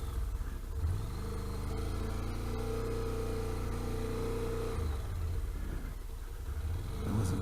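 Motorcycle engine riding through a sharp turn, a continuous droning hum with steady low rumble and slight pitch shifts as the bike slows and picks up again, heard up close throughout.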